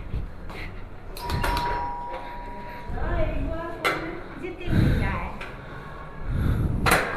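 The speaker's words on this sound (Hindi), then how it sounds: "बजाओ घंटी" A doorbell rings at the front door of a home with dried-out flowerpots on the floor, sounding as a brief chime over background noise while people talk nearby.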